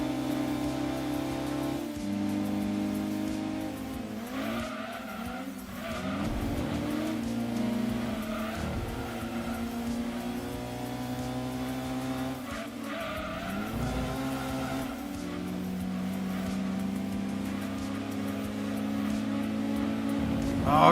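Honda Civic Type R race cars drive in the Gran Turismo 2 video game, with a sustained buzzing engine note that rises and falls through gear changes and occasional tire squeal, continuous throughout.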